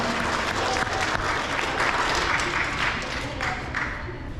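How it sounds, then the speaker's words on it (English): Loud, sustained applause from a large crowd at an elementary school awards ceremony, steady clapping filling the whole stretch before tapering slightly at the end. "Let's give all these students a round of applause."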